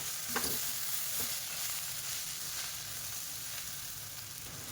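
Tindora and cashew curry sizzles steadily in a pan over a low flame while a spoon stirs it, with a few scraping strokes early over a constant close frying hiss.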